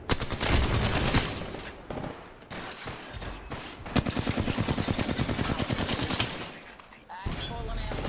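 Rapid bursts of automatic gunfire in the video game Remnant 2, dense rattling volleys with a steady rhythmic run in the middle, loud and close amid other game effects.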